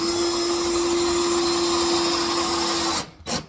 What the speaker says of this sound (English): So now I can go ahead and screw in at least this end of it.